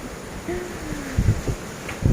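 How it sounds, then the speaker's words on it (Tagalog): Gusty wind buffets the microphone in low rumbling bursts, with faint rustling and a thin tonal whine in the background. "Ayan, malakas ang hangin."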